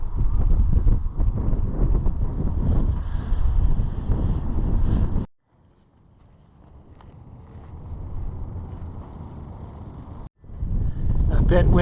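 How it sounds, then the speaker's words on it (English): Strong wind gusting across the top of the Valley View Silt Cliffs, heavy roaring buffeting on the microphone that cuts out abruptly, then a quieter stretch before the blustering roar returns, with speech in between. "A bit windy here for speaking into the camera"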